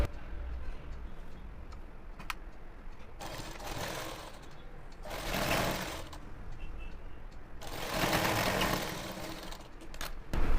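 A sewing machine stitches a pant hem folded twice, running in several bursts of steady mechanical whirring with quieter pauses between, close and moderately loud.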